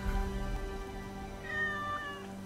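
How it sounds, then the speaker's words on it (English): A cat meows in the Egyptian-set video game Assassin's Creed Origins, one drawn-out, fairly close call that rises near the end, heard alone over a low steady game ambience. "Yeah, don't meow at me."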